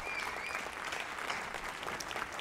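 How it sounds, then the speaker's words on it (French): A small audience applauds steadily and fairly softly, the dense clapping sustained throughout in honor of a flute player. "Applaudissons notre talentueux flûtiste."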